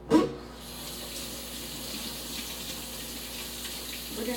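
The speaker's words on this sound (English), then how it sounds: "going to sit here and wash our potatoes." Kitchen tap water running steadily into a sink to wash potatoes, a continuous even hiss and splash after a brief opening clatter, moderately close and alone without talk.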